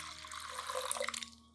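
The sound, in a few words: pouring water into aloe vera solution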